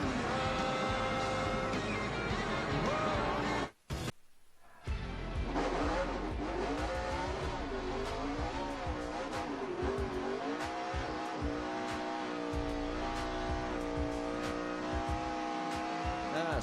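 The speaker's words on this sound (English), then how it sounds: "he is doing the burnout and celebrating in style here at Charlotte Motor Speedway" A NASCAR stock car does a victory burnout at Charlotte Motor Speedway, with the engine loud and close, revving hard in waves over steady tire squeal. It cuts out briefly for about a second near the start, then roars back and keeps going.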